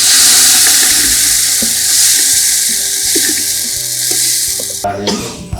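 Spice masala sizzling and being stirred in a pan while mutton trotters soup is prepared, a steady close frying hiss with scraping stirs throughout and a louder clatter near the end.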